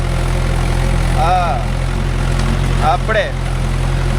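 A Mahindra 575 DI tractor fitted with cage wheels runs in muddy rice paddy, its engine a loud steady low drone throughout, with someone speaking over it.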